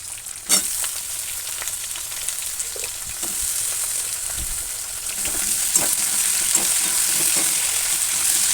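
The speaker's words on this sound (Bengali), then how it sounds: "আলুগুলো ভেজে নেব।" Potatoes fry in oil with cumin, dried red chili and onion. A steady close sizzle carries scattered clinks and scrapes of stirring, and it grows slightly louder toward the end.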